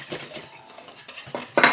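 A metal whisk rattles and clinks against a bowl in short, uneven bursts, close by, ending in a louder clatter.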